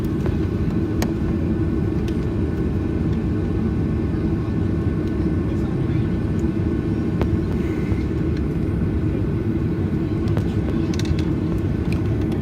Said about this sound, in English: And that Ryanair plane just landed